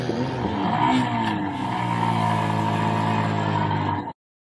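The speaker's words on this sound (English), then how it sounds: "Start your engine!" A Honda Monkey bike engine fires up and runs steadily at close range, a loud continuous buzzing idle with rising revs for about four seconds before cutting off abruptly into silence.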